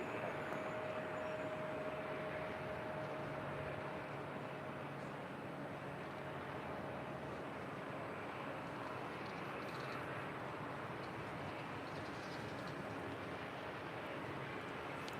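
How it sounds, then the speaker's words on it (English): An Embraer E175 LR regional jet arriving from Eugene at LAX produces a steady, loud, broadband roar with a low drone that holds throughout, no voices present. "5959 coming in from Eugene. It's a 6-year-old Embraer E175 LR."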